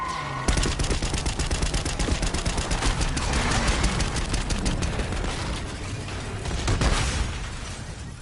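Rapid sustained gunfire erupts in Call of Duty Black Ops 6, dense fast bursts of shots layered with booming impacts, continuous and loud for several seconds.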